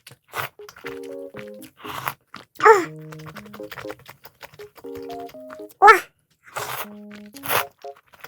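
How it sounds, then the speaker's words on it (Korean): Crisp crunching bites of bean sprouts eaten with a Korean soup-and-noodle meal, several sharp loud crunches spaced seconds apart between quieter chewing, with brief bits of talk in between. "숙주 아삭아삭한 것까지 너무 좋은데요?"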